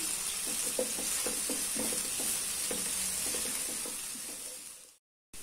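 Green chillies, ginger and tomato with a little salt sauté in a pan, a soft steady sizzle with repeated scraping stirs of a spatula, fairly faint and close, cutting off abruptly near the end.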